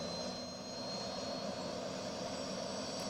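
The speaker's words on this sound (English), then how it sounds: "Just heard the groan of that Allison turbine firing up." Allison turbine engine on a land speed racer at an El Mirage dry lake meet, a steady droning turbine roar with a high whine, moderately distant and continuous.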